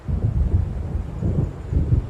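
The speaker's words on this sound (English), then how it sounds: "It seems there's a storm coming." Deep, rolling thunder from an approaching storm in the Alan Wake Remastered video game, rumbling continuously through low swells with no voices present.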